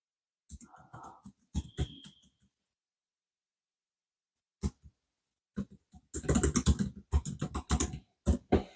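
Computer keyboard typing in scattered bursts at home, with short clusters of key taps and pauses between them, mixed with soft breathing and faint murmured sounds, close and moderately quiet.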